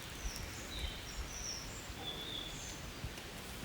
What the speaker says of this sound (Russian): Очень красиво птицы.